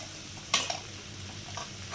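Egg stir-fry (muttai poriyal) stirred in a pan over a high flame: a sharp scrape of a utensil against the pan, then softer stirring clinks over a steady low sizzle, close and fairly quiet.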